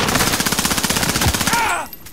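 Automatic gunfire in Call of Duty Warzone on Rebirth Island, a rapid loud burst of evenly spaced shots lasting over a second and a half, then fading into quieter game ambience.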